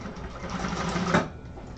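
Industrial sewing machine running steadily while top stitching a garment lining, a continuous close mechanical whir with a slight swell near the end before easing off.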